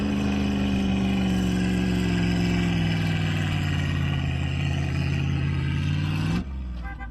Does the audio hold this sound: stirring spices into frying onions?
no